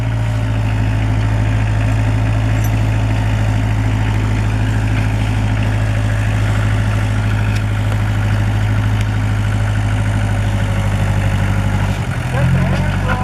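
A Kubota L345DT tractor engine runs in low reverse, a loud, steady low-pitched idle-like drone that holds throughout and shifts briefly near the end.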